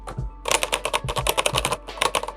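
Fingers type on a Keychron K8 wireless mechanical keyboard in quick, close-up bursts of crisp key clacks, pausing briefly between runs.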